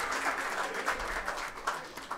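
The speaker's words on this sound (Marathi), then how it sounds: "एकदा जोरदार टाळ्या होऊन जाऊ द्या त्यांच्यासाठी" Audience applause at a cultural program during a camp at Sevagram, steady broadband clapping from a crowd, moderately loud and sustained throughout without pauses.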